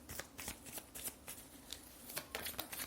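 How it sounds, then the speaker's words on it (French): Tarot cards being shuffled and one card slipping from the deck, heard as soft, close riffling and flicking bursts with quiet, irregular slaps. "j'ai une carte qui est tombée."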